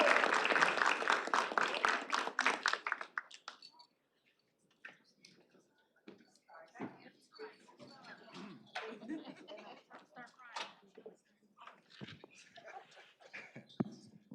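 A ceremony audience at a college honor society induction bursts into loud applause that fades out after about three seconds, followed by quiet room sounds, shuffling and a few soft voices.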